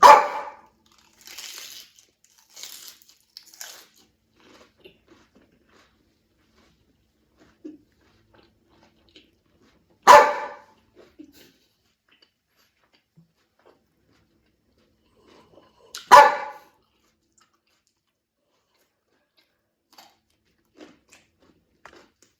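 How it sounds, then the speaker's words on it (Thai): A dog barks in three loud, separate bursts spaced several seconds apart. Softer short yaps and faint sounds fall between them, with long near-silent gaps. "หนูจะมาเห่าแม่ทำไมล่ะคะลูก"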